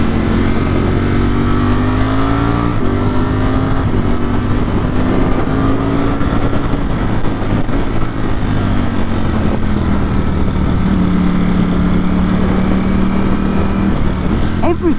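A Ducati Streetfighter V4S motorcycle engine pulls through corners on a twisty road, a loud, continuous close-up drone with the pitch wavering and dipping as the throttle rolls on and off, under steady wind noise.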